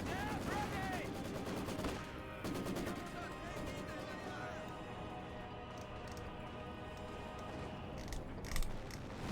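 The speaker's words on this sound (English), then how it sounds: "Half-track firing away." A half-track fires in the World War II strategy game Company of Heroes 2, rapid bursts of gunfire over constant battle noise and music, with other shots and impacts mixed in.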